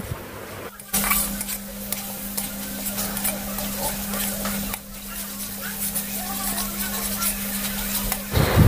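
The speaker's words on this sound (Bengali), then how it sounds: "এবার এর মধ্যে আমি হলুদ গুঁড়ো, কাশ্মীরি লঙ্কার গুঁড়ো আর ধনের গুঁড়ো দিয়ে মশলাটা আমি ধিমি আঁচ করে আরও 2 মিনিট কষিয়ে নেব" Onion, ginger-garlic paste and ground turmeric, Kashmiri chilli and coriander powders sautéed over low heat in a pan for a jackfruit and chicken dish, a continuous sizzle with repeated scraping of a spatula and a steady low hum.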